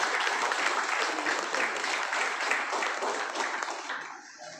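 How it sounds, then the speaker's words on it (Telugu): Sustained applause from the audience at a journalists' union meeting in Hyderabad, dense and even clapping from a crowd that carries on for several seconds before fading out near the end. "వారికి మరోసారి చప్పట్లు."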